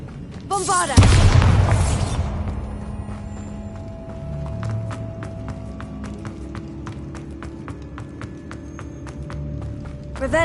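A Bombarda blasting spell goes off in the Hogwarts Legacy video game: a loud, broad burst about a second in, fading into a lingering rumble with faint ringing and scattered clicks afterward.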